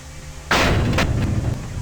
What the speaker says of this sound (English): Please stop banging on the door.